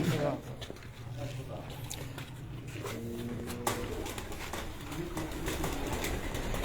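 Pigeons of a fancy breed being handled at a loft, with soft cooing and wing patter under steady background noise and nearby voices talking.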